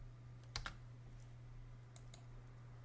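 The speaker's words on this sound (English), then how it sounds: "you could also type in a number" Faint, quiet computer keyboard keystrokes, two quick pairs of clicks spaced apart over a low steady hum.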